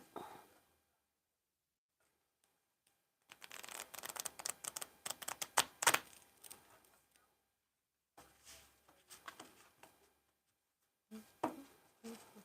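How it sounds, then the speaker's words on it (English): Playing cards are shuffled in several quiet bursts of rapid flicking and riffling, separated by short silences. "I just shuffle these cards"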